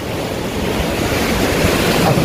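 Strong surf pounding steadily near the shore at high tide at a marine sanctuary, a dense continuous roar of breaking waves with wind buffeting the microphone throughout.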